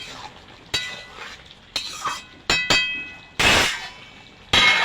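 A spoon stirs jackfruit and prawn curry with garam masala paste in a pan, giving scattered loud clangs and clinks against the metal, with a longer scraping burst in the middle.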